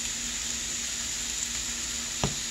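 Vegetables with garlic, salt, pepper and seasoning sizzle steadily in a frying pan, a bright constant hiss with a brief clink or stir near the end.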